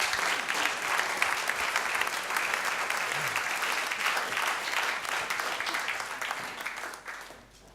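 A theatre crowd at an evening show applauds a performer, a broad steady wash of clapping that holds for several seconds before fading out.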